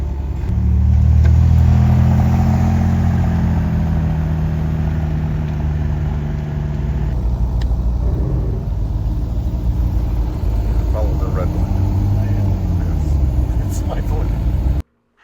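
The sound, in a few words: Porsche sports cars driving on highway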